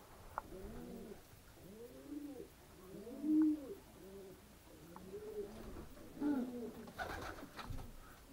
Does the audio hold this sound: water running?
no